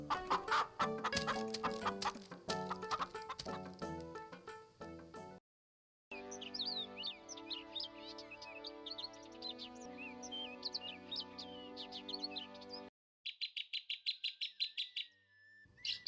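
A hen clucks and a chick peeps in bright, rapid chirps, with short gaps of silence between the sections. No one speaks.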